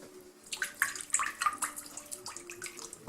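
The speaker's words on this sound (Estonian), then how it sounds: "nüüd ma hakkan kallama see juurde, nagu ikka" Liquid poured into flour while mixing chebureki dough, a faint, uneven trickle and splash in a quiet kitchen, close and alone without talk.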